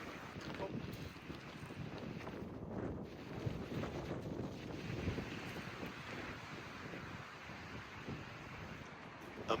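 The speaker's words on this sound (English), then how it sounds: "Windy as hell." Strong wind buffets the microphone on a West Virginia mountaintop, a steady loud roar with gusting rumbles throughout and no talking.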